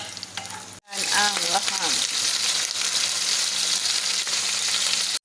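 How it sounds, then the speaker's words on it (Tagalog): Ground meat and onion sauté in a hot pan for a Middle Eastern-style rice and meat dish, a loud, steady sizzle starting abruptly and continuing, with a brief spoken phrase at the start. "igisa ang giniling lahamaprom sa Bombay"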